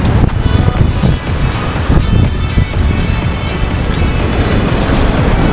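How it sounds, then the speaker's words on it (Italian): Strong, cold wind roars and buffets steadily at the Cala Tinnari coast in Sardinia, with a surf-like rush of noise and gusts throughout. "il vento, che oggi è veramente freddo"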